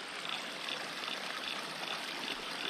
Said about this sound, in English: Nice clear water running.